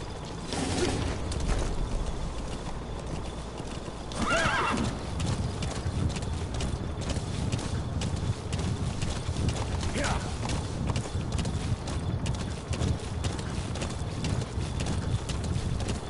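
D Horse from Metal Gear Solid V clip-clopping along in a steady hoof rhythm, with occasional neighs and game ambience, while a person talks over it.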